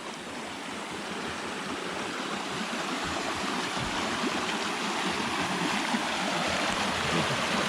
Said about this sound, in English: A lot of water runs out of these hills when it rains.